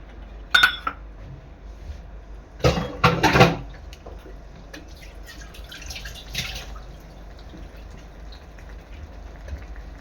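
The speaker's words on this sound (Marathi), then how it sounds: "यामध्ये मी पाणी ऍड करणार आहे" A metallic clink comes first, then a short splashing pour of water into a pot of chana and suran (elephant foot yam) curry, followed by faint drips and quiet kitchen clatter.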